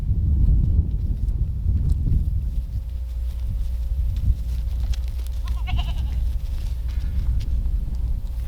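Goats on a farm during breeding season bleat in short, scattered calls over a steady low rumble of wind or handling noise outdoors, the animals moderately close.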